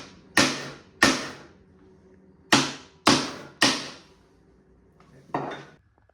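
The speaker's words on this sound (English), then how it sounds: "Now I'm chopping out the waste." Hand chopping of dovetail waste in reclaimed lumber with a chisel and mallet: six sharp, close wooden strikes spaced about half a second to a second apart with quiet gaps between, the last blow softer.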